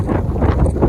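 Strong wind buffets the microphone on a hilltop rock, a loud, continuous low rumble filling the short stretch with no talk.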